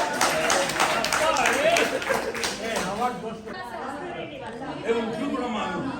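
A scattered round of clapping from a reunion gathering's audience as an award is announced, fading after a few seconds into chatter and talking voices.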